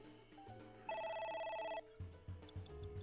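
A telephone rings in the video game AI: The Somnium Files, as a steady electronic ring tone that sounds in a sustained burst, joined by game music and soft tones, with no talk.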